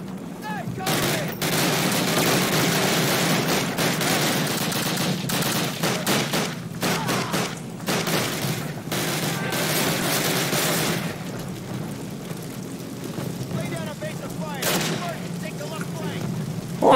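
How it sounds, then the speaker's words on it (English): Sustained battlefield gunfire in Call of Duty, dense overlapping rifle and machine-gun shots with occasional heavier booms, loud and continuous throughout, with shouted voices mixed in. "Honnan lőnek?"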